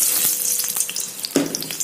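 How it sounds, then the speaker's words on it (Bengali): Diced potatoes fry in leftover oil in a wok, giving a brief bright sizzle with a sharper burst of crackling as they are stirred. "সে আলুগুলো একটু ভেজে দেবো"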